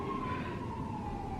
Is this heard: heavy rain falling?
no